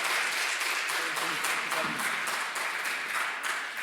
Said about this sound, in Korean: 우리 김병훈 목사님, 최덕수 목사님, 또 리난 교수님 박수로 감사 인사드리도록 하겠습니다.